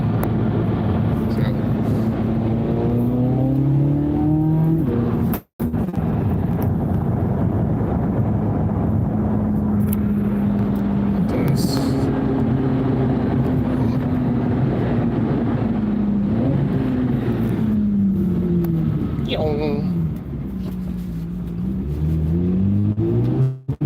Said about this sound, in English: It was definitely a Corvette.